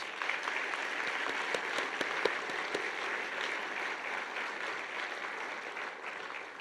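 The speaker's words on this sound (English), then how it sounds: "Let's give them all one more round of applause." An audience at a 2018 Gulf Coast State College honors ceremony gives a round of applause, an even wash of many hands clapping in a large hall at moderate loudness, with a few sharper claps.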